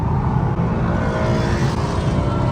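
A Dodge SRT8 Charger and a Mustang GT accelerate on a freeway, heard as a steady loud engine and road drone from inside a car, with no talking.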